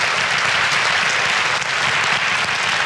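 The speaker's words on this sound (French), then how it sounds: "je vous propose de les applaudir pour commencer" Sustained, full applause from a large audience at a regional business awards ceremony greets the nominees, dense and even from start to finish with no speech.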